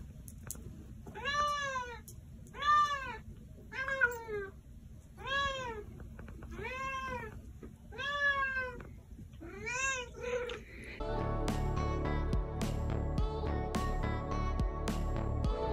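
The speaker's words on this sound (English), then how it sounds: "Every day, this cat brings a slipper to its owner." A cat meows repeatedly, about seven clear, evenly spaced calls close to the listener, before a loud burst of music takes over for the last few seconds.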